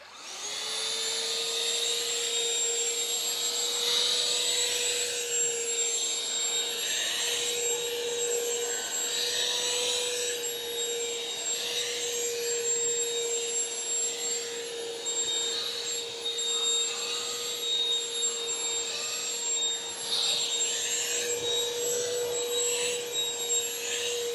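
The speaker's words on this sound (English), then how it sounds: "So that you can vacuum in confined spaces." A Shark cordless handheld car vacuum (CH950UKT14) cleaning carpet in a car, its steady high motor whine running continuously and close for the whole stretch, with faint rubbing and suction shifts as it moves over the pile; no talking.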